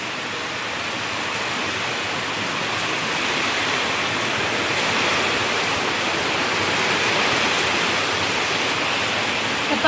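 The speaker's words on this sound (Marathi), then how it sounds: "भरपूर प्रमाणात जोरदार पाऊस चाललाय, लय जोरदार आहे" Heavy rain pouring down on farmland, a dense, continuous broadband roar that stays loud and even throughout without any clear voices.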